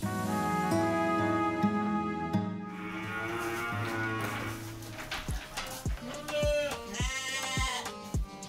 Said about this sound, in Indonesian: Ternyata suara kambing.